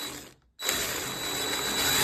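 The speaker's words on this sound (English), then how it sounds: "Now we can drill the holes." After a brief pause, a power drill bores a hole into a bifold door with a steady, loud whirring grind that holds for nearly two seconds.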